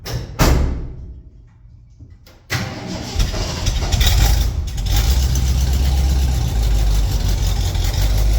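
A 1974 Ford F-250 farm truck engine cranks briefly, stops, then catches and roars to life loudly, settling into a steady, rough running idle close to the microphone.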